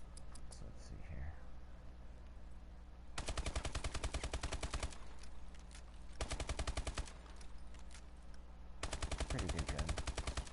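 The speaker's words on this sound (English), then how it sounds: "you get the M1927, which is the original Tommy gun." Bursts of automatic fire from an M1927 Tommy gun in a video game, three long rapid strings of shots at steady volume with brief pauses between them.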